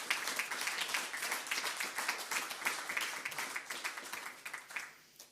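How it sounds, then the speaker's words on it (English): A crowd at a student awards ceremony gives a final round of applause for the winners, a steady wash of many hands clapping at moderate volume that tapers off at the close. "just kind of a final round of applause for all of our award winners for tonight"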